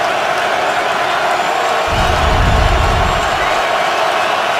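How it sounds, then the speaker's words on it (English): A stadium crowd at an NFL game between the Jets and Ravens in Baltimore swells into a loud, sustained roar midway through, over an ever-present crowd noise. "Crowd rising."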